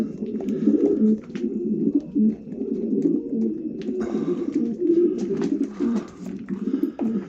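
Racing pigeons from German Janssen lines coo close by in a loft, several birds overlapping in low, throaty, rolling calls that rise and fall continuously, with a few light rustles and knocks.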